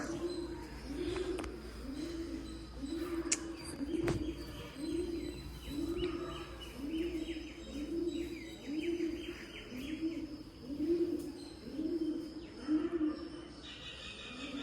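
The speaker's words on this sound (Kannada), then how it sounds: "ಪಾರಿವಾಳ ಒಂದು ಸೌಂಡ್ ಮಾಡ್ತಾ ಇದೆ, ಎಷ್ಟು ಚೆನ್ನಾಗಿ ಮಾಡ್ತಾ ಇದೆ." A pigeon coos over and over at a temple in a steady, regular rhythm, soft and throaty, with light ambient noise behind it.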